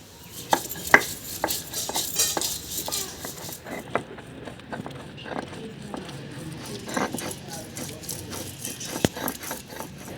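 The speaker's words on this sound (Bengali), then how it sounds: "আমি এখানে আদাটা বেটে নেব।" Ginger being ground into paste by hand gives close, repeated scraping and rubbing strokes in an uneven rhythm, with occasional sharper knocks.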